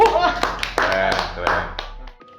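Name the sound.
clapping applause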